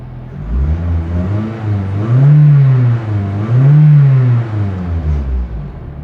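A Toyota Celica engine idles high above 1,000 RPM, its steady mid-pitched hum swelling twice into louder, slightly higher surges before settling back, close and alone with no talk.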